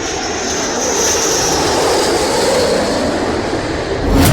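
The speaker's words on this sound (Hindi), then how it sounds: "B-1 बॉम्बर इस मिशन के लिए ब्रिटेन पहुंच चुका है।" A B-1 bomber's jet engines roar in a loud, continuous wash of sound that holds steady throughout, with no voices present.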